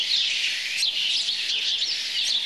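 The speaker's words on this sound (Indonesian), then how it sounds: "banyak kafe yang mengganti musiknya dengan suara kicauan burung seperti ini" Recorded birdsong plays in an Indonesian cafe in place of music, with bright continuous chirps and tweets layered densely and fairly loud throughout, with no voices.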